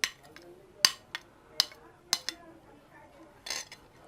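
Chopped mango pieces dropped into a bowl give a few sharp clinks and taps of spoon against dish, spaced about half a second apart, plus a softer rustle near the end. The sounds are close and moderately loud, with no talking.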